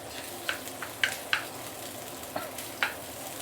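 Ginger and garlic sautéing in a pan for a Johor Bahru claypot fish head dish, with a soft steady sizzle broken by about seven light clinks and scrapes of a spatula, close by and with no talking.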